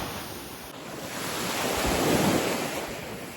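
Black Sea waves wash ashore at Chornomorsk under steady wind, a broad continuous surf roar that swells slightly toward the middle and stays close and fairly loud, with no voices.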